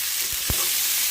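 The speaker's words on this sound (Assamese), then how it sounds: "এইখিনি একেলগে ইয়াৰ লগত ভাজি ল'ম" Cinnamon pieces and cardamom pods frying in a pan, a steady hiss of hot oil with a couple of soft low thumps from stirring.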